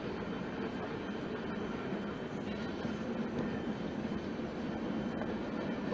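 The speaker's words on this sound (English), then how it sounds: "I'm sort of amused that there's a train" A train rumbles past outdoors in Flint during a public update, a steady low roar of wheels and engine with faint clatter, continuous and fairly distant throughout.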